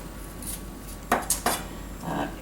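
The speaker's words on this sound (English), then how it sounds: "So I'm just chopping the pepper and I'm rough chopping it." A few sharp knife strikes on a cutting board, three quick chops in a row rough-chopping a red bell pepper, with light kitchen clatter around them and no talking.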